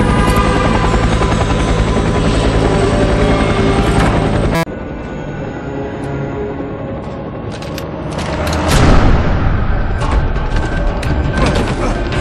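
In the shooter video game F.E.A.R. 3, a helicopter hijacked while passing through a slum drones with loud, continuous rotor noise throughout, briefly dipping before surging again amid crashing effects.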